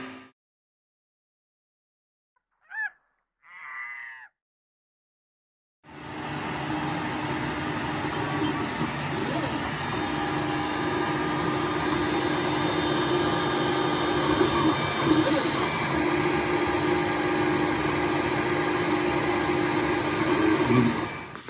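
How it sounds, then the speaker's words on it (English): After a couple of brief faint sounds, the stock hotend fan of a Creality Ender 3 Pro 3D printer starts abruptly, a steady mechanical whirring hum droning on continuously, loud and close. "about half the noise of this printer comes from this fan"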